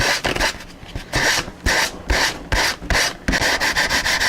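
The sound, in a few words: sanding fiberglass with 220 grit sandpaper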